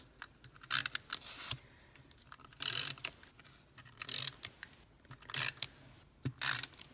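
A snail adhesive tape runner being drawn across card stock during card making, with about six short close raspy clicking ratchet bursts separated by quiet pauses and no talking.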